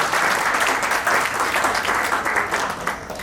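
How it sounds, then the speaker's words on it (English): A room full of people applauds loudly and continuously, the clapping slowly easing off toward the end. "So one round of applause for him."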